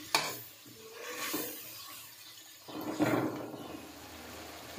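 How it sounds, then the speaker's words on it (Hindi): Masala with black cardamom being stirred and fried in a pan with chicken: faint, close scraping and rubbing strokes with a low sizzle, a sharp tap at the start and a louder stirring burst near the end. "अब मैं इस मसाले को भून लूँगी।"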